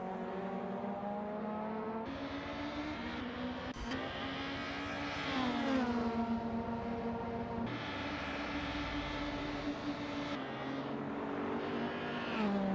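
Racing cars in a TCR touring-car driving simulator game roar steadily, engine pitch climbing and dropping through gear changes, with a brief sharp click partway through and no talking.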